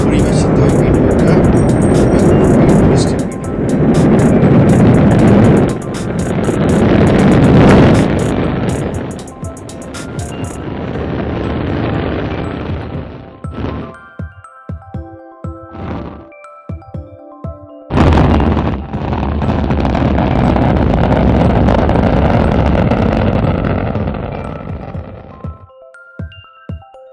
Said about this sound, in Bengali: স্পেস শ্যাটেল কীভাবে রকেট লঞ্চ করে নাসা দ্বারা পরিবেশিত ভিডিওটা।